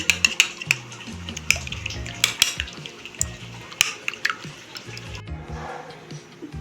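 Eggs seasoned with salt and pepper being whisked in a bowl: quick, uneven clinks and scrapes of a utensil against the dish, close and moderately loud, with a brief quieter pause near the end.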